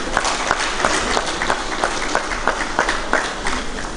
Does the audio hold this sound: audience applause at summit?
yes